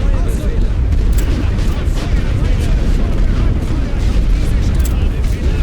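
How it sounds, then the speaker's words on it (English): Enemy artillery pounding away in The Great War: Western Front, a dense, loud rumble of repeated blasts and sharper cracks from gunfire layered throughout, with a voice talking over the barrage. "There's the enemy artillery."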